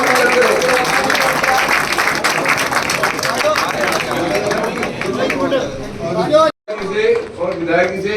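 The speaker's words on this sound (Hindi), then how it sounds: "ताली जरूर बजाते रहो।" An audience claps continuously at a team ceremony during a memorial tournament in Faridabad, while an announcer speaks loudly over a public address system. The sound breaks off briefly near the end, then the crowd noise resumes.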